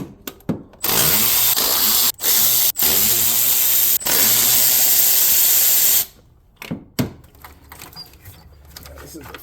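Power tool running in several loud, sustained bursts with short pauses, removing 8 mm intake manifold bolts on a Chevy Silverado during knock sensor replacement, followed by quieter clicks and handling noises.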